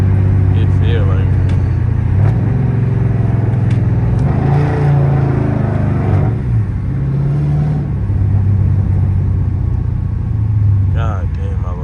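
A Dodge Charger R/T's engine rumbles steadily while driving through rush hour traffic, a loud low drone that rises and falls with throttle, with someone talking over it much of the time.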